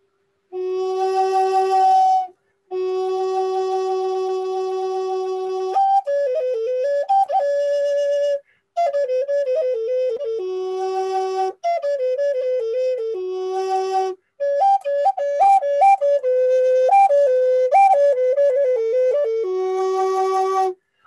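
Native American courting flute plays a breathy, sustained melody with warbling trills and fluttering ornaments between long held notes, close and clear with brief pauses for breath, no talking.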